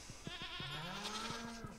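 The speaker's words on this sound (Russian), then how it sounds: "Барана мы затретировали, бедолагу. Он уже кричал на разных голоса." A ram bleating in the farming video game Stardew Valley: one drawn-out, wavering bleat rising over soft rhythmic clicks, heard alone at a modest level.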